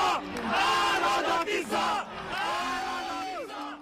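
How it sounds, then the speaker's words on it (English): A crowd celebrates Peter Magyar's landslide election victory with loud, close shouting and cheering, many voices rising and falling together in bursts of whoops for a few seconds. "a different crowd erupted in cheers and dancing"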